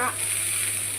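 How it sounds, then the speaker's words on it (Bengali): Potatoes and prawns fry together in a pan, giving a steady low sizzle at close range throughout. "আলুটাকে ভাজা ভাজা করে এবার আমি কিছু"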